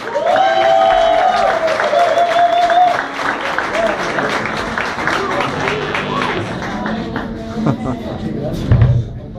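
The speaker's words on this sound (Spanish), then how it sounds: "Un aplauso, por favor." A live show audience applauds a singer and dancer, clapping near and full under a loud announcer voice and music, then thinning out.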